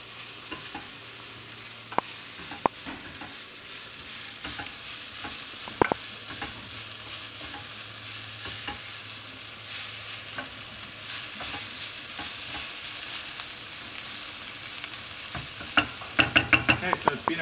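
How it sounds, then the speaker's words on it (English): A spiced pepper and onion mixture with garlic, salt and coriander is stirred in a pan, giving a soft background sizzle with scattered scraping and clicking utensil sounds, busier toward the end. "Give that another stir."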